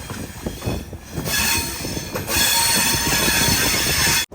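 An express sleeper train rolls into Vanchi Maniyachi Junction station at dusk, loud and close, with a steady rumble of wagons and a high wheel squeal rising over it, then a brief cut at the end.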